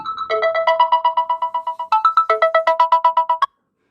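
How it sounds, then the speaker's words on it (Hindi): An electronic phone ringtone goes off during a lecture recording: a loud, melodic pattern of quick repeated beeping notes that shifts tune partway through, plays alone for about three and a half seconds, then cuts off abruptly. "फ़ोन आ रहे हैं"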